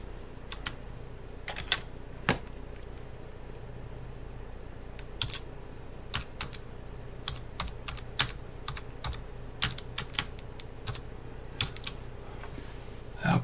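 Someone types on a computer keyboard, entering a list of places. The keystrokes are close and irregular, with scattered taps and small quick runs over a steady low hum.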